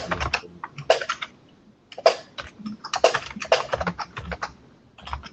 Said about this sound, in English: your keyboard has got louder than ever